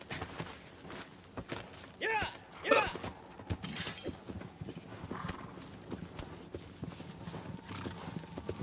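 Horse hooves clip-clop rhythmically in the Attack on Titan video game, with a whinny and a sharp shattering crash partway through, and a voice talking over the game sounds.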